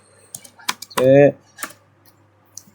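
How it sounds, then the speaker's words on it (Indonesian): Commands are typed on a computer keyboard in a handful of separate sharp key taps, spaced irregularly, close by, with someone speaking briefly between them. "kita ketik enable conf"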